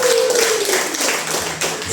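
Women of a church congregation clap together in a steady broadband patter, fairly loud and close, with a faint sustained tone fading early on and no talking over it.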